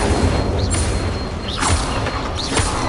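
Fire spell cast repeatedly in the Hogwarts Legacy game, three short whooshing bursts with rising tones spaced about a second apart over a steady noisy background.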